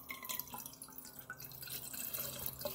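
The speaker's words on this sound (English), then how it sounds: "So we're gonna go ahead and put the water here" Water is poured into a Cirkul bottle, a close, trickling stream with uneven drips and splashes that runs quietly and unbroken with no voices.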